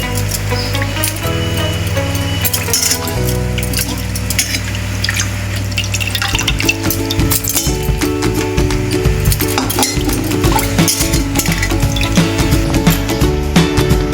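Soaked flattened rice drains in a strainer as water runs off it, mixed with light metallic clinks. The splashing and clinking continue steadily and loudly throughout.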